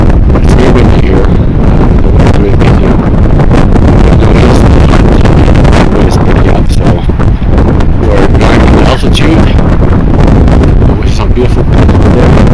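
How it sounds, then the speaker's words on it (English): Strong gusty wind on the Everest Base Camp trek buffets the microphone in a loud, continuous roar with rustling surges throughout. "It's very windy here."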